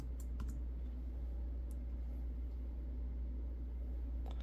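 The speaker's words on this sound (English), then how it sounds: "And actually type in some sites." Keystrokes on an Apple Magic Keyboard, a few scattered taps close by over a steady low hum, with no talking.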